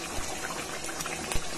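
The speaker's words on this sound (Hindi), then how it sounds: "और 10 मिनट तक अच्छे से खौलाएंगे" A pot of Rohu fish curry boiling in its gravy gives off a steady, close bubbling hiss, with one sharper pop near the end.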